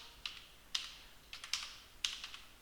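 Computer keyboard typing text in Photoshop, a handful of sparse, crisp key clicks heard close and quiet with no talk.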